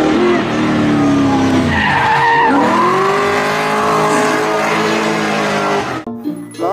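Toy Lamborghini race car with a loud, continuous skidding and tire-squeal sound effect with engine whine, steady for about six seconds before cutting off abruptly.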